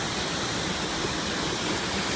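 A waterfall in Cornwall roars close by with a dense, steady rush of falling water, loud and unbroken, with no voices.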